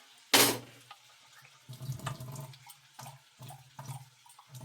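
Water being added to a spice mixture of onion, ginger and garlic, with a brief loud splash followed by softer intermittent pouring and trickling in a kitchen, close and without talk.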